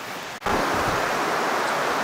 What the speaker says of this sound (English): This is Eagle Creek. Big creek.